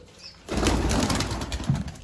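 A pigeon's wings flap in a burst, close and loud, with a rapid fluttering rhythm that continues for over a second.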